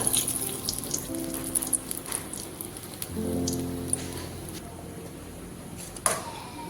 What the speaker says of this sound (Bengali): ফোড়নে দিয়ে দিচ্ছি গোটা জিরে দুটো তেজপাতা